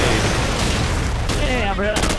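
A grenade detonates in a shooter video game as a loud, rumbling burst of noise that fills the short moment, with a voice talking over it.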